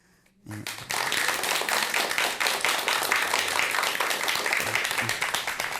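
An audience at a Buddhist monk's talk program breaks into applause after a brief quiet moment, steady, dense clapping that carries on to the end.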